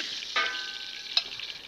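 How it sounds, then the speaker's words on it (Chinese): A pork chop fries in a shallow layer of oil in a pan, giving a steady, moderately loud sizzle with a couple of brief crackles and a light tick of cookware. "这样子两面都煎的黄黄的"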